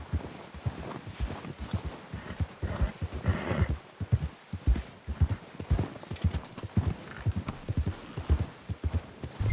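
Horse hooves clip-clop at a steady walking rhythm throughout in Red Dead Redemption 2, close and moderately loud, with an occasional snort or whinny mixed in.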